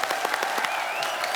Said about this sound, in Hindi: जोरदार तालियां अनूप जी के लिए